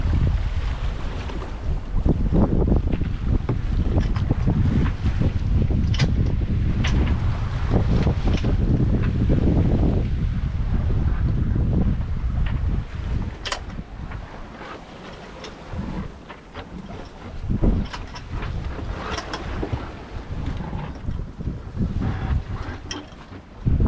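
A sailboat slowly sails in toward a beach at about two knots, with steady wind buffeting the microphone and a low rush of water and hull noise throughout, with no talk.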